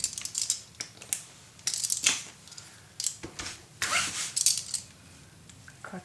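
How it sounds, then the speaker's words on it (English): Scissors snipping paper for a Halloween scrapbook mini album, a series of sharp close crisp cuts in irregular bursts with short pauses between them, and no talking. "Cut them in half."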